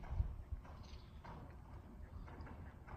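Faint, soft hoofbeats from a horse walking during dressage schooling, an uneven clip-clop spread across a quiet arena background.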